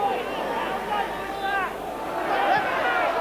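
Uneasy football crowd murmuring at Portman Road, Ipswich, during a March 2000 match against Norwich City: a steady, diffuse babble of many voices fills the stand, with a few louder individual calls rising out of it.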